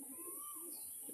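A young pair of western Kalshira pigeons gives faint, soft cooing over a constant high hiss, close but quiet.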